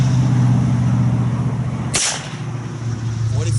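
A .44 Magnum round fired one-handed from a Virginian Dragoon revolver: a single sharp, loud crack at mid-clip over steady hum and background noise, with a brief ringing tail.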